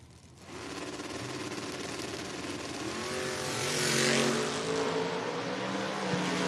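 Monza and Vega Wagon drag racing cars roar at a door-car drag racing event, loud sustained engine noise that rises in pitch as they accelerate down the strip, swelling and peaking midway before holding strong.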